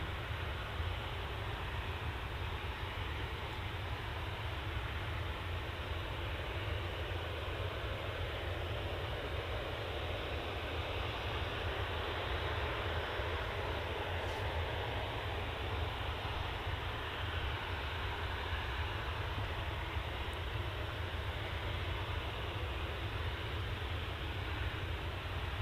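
A TUI Boeing 737-800, registration G-FDZS, bound for Hurghada and lined up for takeoff at Manchester, gives a faint, distant, steady engine hum that stays flat and unbroken throughout.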